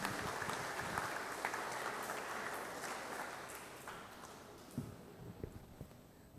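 Church congregation clapping during a Sunday Mass, a steady wash of applause that slowly thins out and gives way to a few last scattered claps and shuffling.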